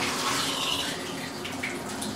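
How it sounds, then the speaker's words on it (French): A shower runs in an apartment bathroom, a steady, close hiss of spraying water that continues without a break. "Alors on va essayer la douche."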